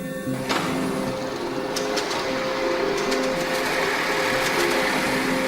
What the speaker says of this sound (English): It was an electromagnetic machine called the bomb